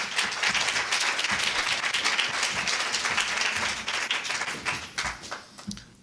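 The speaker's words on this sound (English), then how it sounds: "give them another round of applause" Audience applause for presenters at an Oregon infant mental health endorsement talk, a dense burst of clapping from a room of people that holds steady and then tapers off near the end.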